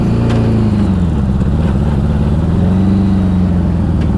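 A 1984 Honda Goldwing motorcycle engine runs steadily up close, a loud continuous low drone with slight shifts in pitch and no voices.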